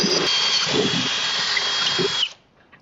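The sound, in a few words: power drill drilling through metal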